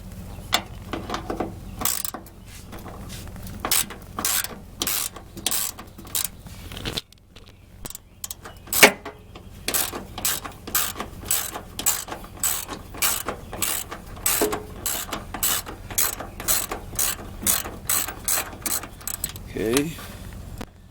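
A ratchet wrench loosens bolts on a Cadillac Escalade being rebuilt, giving a long run of rapid, close metallic clicking bursts with brief pauses between strokes and occasional clanks.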